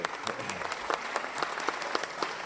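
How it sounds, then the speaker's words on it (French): A forum audience at New York Forum Africa 2012 breaks into sustained applause, a dense, even patter of many hands with sharper individual claps standing out, filling the room without any voices. "on peut l'applaudir, effectivement"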